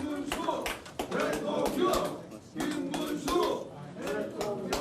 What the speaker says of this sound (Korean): 박수를 치고 있네요.